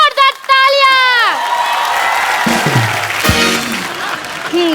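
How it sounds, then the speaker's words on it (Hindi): A studio audience claps and cheers loudly for several seconds on a comedy show, with whoops and children shouting mixed into the steady applause. "इन दोनों के लिए जोरदार तालियां"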